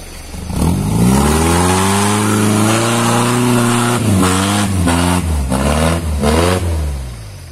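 An off-road car accelerates hard at full throttle, its engine revving loud and close, the pitch climbing steadily and then dipping briefly through several gear changes.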